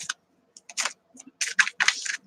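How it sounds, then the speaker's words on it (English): Tarot cards being shuffled by hand: a run of short, crisp papery riffles and taps in irregular bursts, close and fairly loud, with brief quiet gaps between handfuls and no talking. "I'm going to shuffle it a little bit more."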